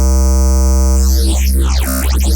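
A sustained wavetable synth note in Vital holds steady at normal pitch, then its tone starts warbling and sweeping, with shifting wobbly harmonics, loud and alone.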